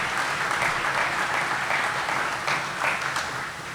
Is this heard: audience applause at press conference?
yes